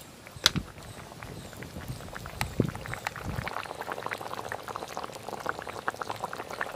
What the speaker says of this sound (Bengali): দু একবার ফুটে গেলে নামিয়ে নেব